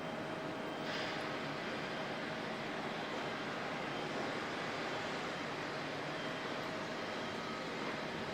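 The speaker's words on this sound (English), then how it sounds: "Jetstar aircraft with the patchwork nose heading out." A Jetstar airliner taxiing out at Auckland Airport gives a steady, distant engine rumble and broadband roar that holds evenly throughout, with no voices.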